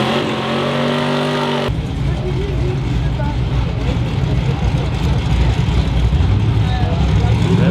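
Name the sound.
burnout of a white Chevrolet S10 pickup truck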